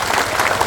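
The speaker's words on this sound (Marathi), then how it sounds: "टाळ्या वाजवा त्याच्या नावाने" An audience at a Marathi community gathering claps in a brief, loud burst of dense applause.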